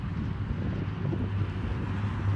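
Steady wind buffets the microphone with a low, rumbling roar, continuous and fairly loud throughout, with no voices.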